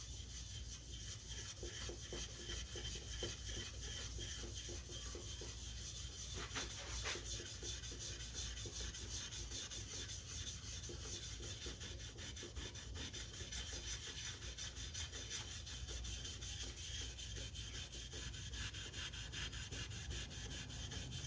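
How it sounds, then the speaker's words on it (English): Fine 4/0 steel wool rubbed over dyed leather gives a continuous, close, even scratchy swish that never pauses, holding steady for over twenty seconds with no voices. "4/0 steel wool. And we'll just start in the middle and start rubbing it."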